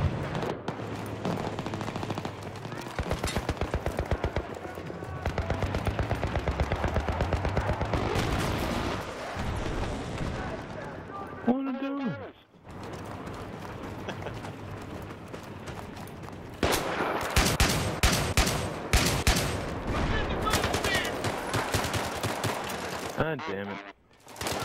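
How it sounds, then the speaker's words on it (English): Near-constant automatic gunfire and explosions from Battlefield 3 combat fill the scene, rapid rattling bursts broken by a brief lull before the firing resumes heavily. "I shot him like 20 times"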